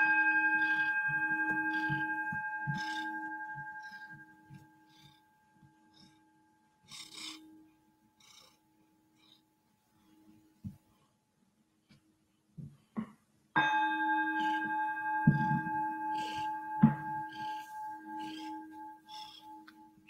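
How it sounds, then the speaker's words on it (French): A meditation bell rings out and sustains with a long shimmering tone, fades nearly to silence, then is struck again and rings loudly once more with some soft knocks and rustle, no talking. "Je l'invite à écouter la cloche jusqu'au bout."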